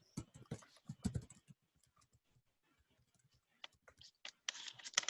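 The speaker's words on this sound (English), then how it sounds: "Let me try typing that again." Short bursts of keyboard typing, a few quick keystrokes, then a pause with faint ticks, then another run of clicking keys near the microphone.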